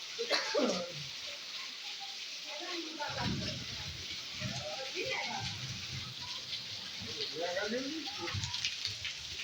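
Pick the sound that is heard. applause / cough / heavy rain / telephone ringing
heavy rain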